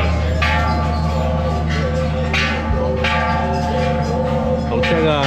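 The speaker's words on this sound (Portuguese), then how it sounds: "tem um sino ali em cima ali, que o pessoal tá batendo" Bell struck repeatedly by visitors at a site in Thailand, several ringing strikes spaced about a second apart with long sustained tones overlapping, steady and fairly loud.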